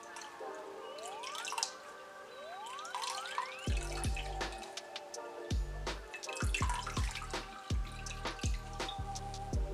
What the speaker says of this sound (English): wiping off our face using, of course, some nice warm water